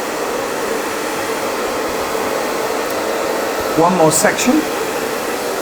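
A hair dryer blows steadily and loudly throughout, styling hair with a brush for a glossy blow-dry finish, with a short spoken phrase over the constant rushing airflow near the end.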